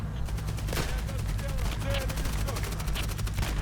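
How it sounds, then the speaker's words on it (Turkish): A Hired Ops match fills the air with continuous video game gunfire, rapid cracks and bursts at mid distance over a low rumble, with voices talking faintly underneath. "Oğlum biri sıkıyor lan."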